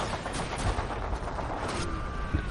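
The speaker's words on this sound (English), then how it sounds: "the deafening peal of gunshots" Video game gunfire in a dense, continuous roar of overlapping shots, loud and sustained throughout with no talk.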